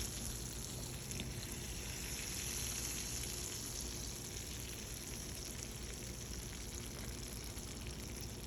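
Hot oil sizzles steadily as a tadka tempering for kadhi crackles in a pan in a home kitchen, a continuous close hiss with no one speaking.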